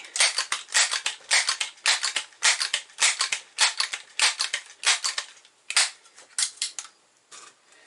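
A Crosman 1377 air pistol fired through a chronograph, about two dozen sharp, snappy cracks in quick irregular succession, crisp and close with no talking.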